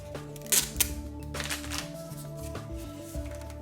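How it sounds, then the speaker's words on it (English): Packaging comes off a TV streaming device in close rustles and crinkles, with a couple of sharp plastic snaps near the start and a run of softer shuffling handling sounds afterward. "Take off all the packaging."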